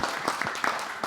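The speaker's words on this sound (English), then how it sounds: "Let us give a big applause to" Audience applause at a conference session in Samda Hall, a steady wash of clapping running through the whole short moment, moderately loud and without pauses.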